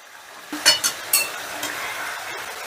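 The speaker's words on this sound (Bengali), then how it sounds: "এবারে কাঁচা লঙ্কা টমেটোটা দিয়ে চিকেনটা একটু নাড়াচাড়া করে মিশিয়ে দিচ্ছি" About 800 grams of chicken is stirred in a kadai with 400 grams of tomato and green chili, giving a steady soft sizzle. A spatula scrapes and clinks against the pan several times.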